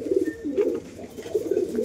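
Giribaz pigeons, crested Indian and Rajshahi birds, coo in soft rolling phrases at close range, repeating in a steady throaty rhythm without any talk.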